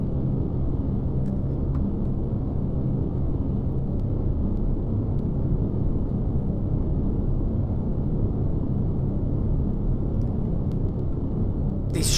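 Spaceship engine in Empyrion Galactic Survival, a small escape-pod craft in flight, giving a steady, loud low rumble with no letup, a few faint high ticks near the end, and no voices.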